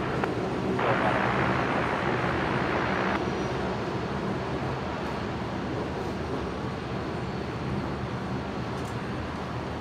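A Boeing 737-800 jet takes off from runway 01 right at Brisbane International Airport, a steady, loud broadband engine roar that stays strong throughout, with no voices.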